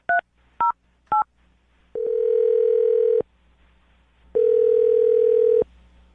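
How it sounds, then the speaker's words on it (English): Three short DTMF keypad tones from a telephone being dialed, followed by two long steady tones, loud and clean with no talking. "I'm going to dial their phone number right now."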